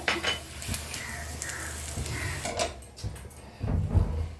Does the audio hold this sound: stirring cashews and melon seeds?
yes